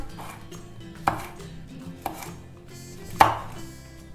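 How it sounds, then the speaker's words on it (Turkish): Three or four sharp knife chops on a cutting board as a hot pepper is cut into rings, spaced about a second apart, close and clear with quiet kitchen background. "Bu acı biberi de halka şeklinde doğrayacağım."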